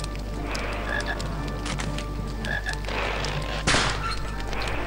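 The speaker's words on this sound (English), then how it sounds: "Hey, a frog." A frog croaks in the Harry Potter and the Philosopher's Stone video game, giving several short repeated croaks over a low game soundscape, followed by a dull thump near the end.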